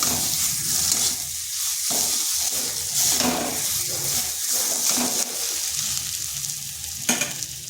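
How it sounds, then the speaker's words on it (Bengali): Potatoes frying with onion in a pan give a constant loud sizzle, with stirring scrapes and occasional clicks of a utensil; no voices. "আলুটাকে একটু ভাজা ভাজা করে নিতে হবে।"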